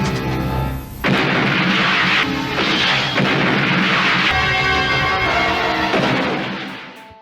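A rapid barrage of loud blasts and booming explosions from a 1990s Thai film rolls on for several seconds, dense and continuous, then fades out.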